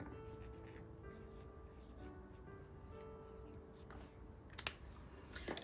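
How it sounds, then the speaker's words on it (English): A pen writes a word on a paper label for a cash-stuffing savings envelope, giving faint, close scratchy strokes in short irregular runs over a quiet room, with a small tap near the end. "I'm going to go ahead and write the word medical in here."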